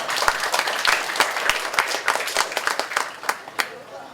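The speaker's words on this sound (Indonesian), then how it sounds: "Tepuk tangan." Scattered applause from a small crowd at a call center launch event in Bandung, individual claps clearly separate, fading into a few last isolated claps near the end.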